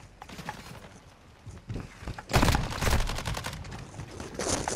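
A minigun spins up and fires in the video game Call of Duty Modern Warfare II, with scattered quieter shots first and then a loud, rapid, sustained burst of fire at close range.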